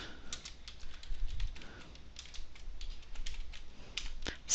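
Fingers type on a computer keyboard while entering names into a database table, a close, quiet run of irregular clicks with a sharper key press near the end.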